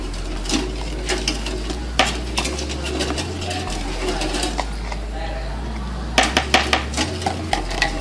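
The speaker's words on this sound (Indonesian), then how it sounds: "Kita kocok dengan kecepatan tinggi." Electric mixer beating an egg with margarine at high speed for a margarine pudding, a steady low motor hum under repeated scraping clicks as the beaters hit the bowl.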